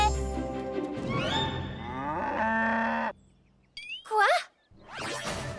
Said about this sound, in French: Salut les vaches à lait.